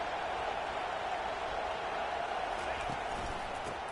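A large stadium crowd at a Michigan versus A&M football game keeps up a steady, roaring wash of cheering and noise, with faint thumps under a commentator's voice.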